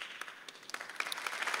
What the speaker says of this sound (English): That's a good place to clap.